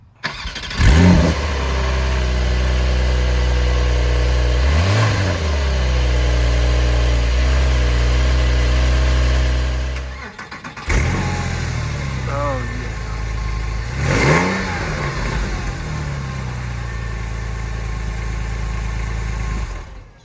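Porsche 911 engines, a 992 and a 996, crank and fire up one after the other. Each starts with a loud revving flare, then settles into a steady, close idle under speech.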